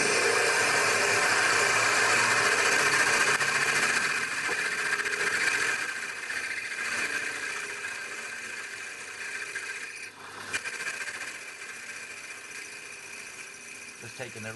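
Steel being drilled to 6 mm depth with a 5.8 mm bit on a milling or drilling machine quill, a steady near grinding whine that fades somewhat in level toward the end.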